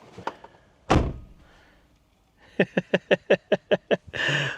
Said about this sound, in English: put it on your door, select what distance you want it, and push it down, and you're done